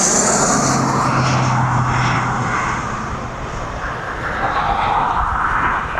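A Learjet comes in to land at East Midlands Airport, its jet engine roar loud and close, sweeping in pitch as it passes and fading slightly toward the end.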